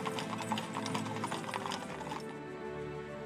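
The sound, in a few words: horses' hooves clip-clopping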